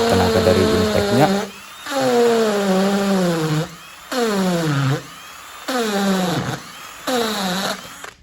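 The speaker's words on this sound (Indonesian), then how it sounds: "sedang saya lakukan pengeboran" A Makita DF331D cordless drill converted to hammer mode whines in five bursts, each revving up and winding down in pitch, separated by short pauses, loud and close.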